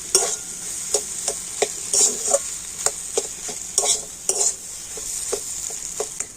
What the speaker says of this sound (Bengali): বাদামটা দিয়ে আবার একটু খুব ভালো করে নাড়াচাড়া করে নেবো